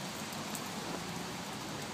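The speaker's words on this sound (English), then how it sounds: "listening to the water drip" Rain falls steadily at the entryway of a Shinto shrine, a soft continuous patter of water dripping heard from under shelter, faint and even throughout.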